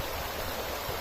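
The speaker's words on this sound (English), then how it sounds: "have to go across this creek here" Creek water flows across a Pacific Northwest beach as a steady, even rushing hiss with no breaks.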